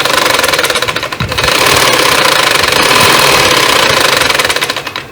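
A sewing machine stitches a side pocket on a garment, running loudly with a steady, rapid mechanical chatter and a brief slowdown near the start.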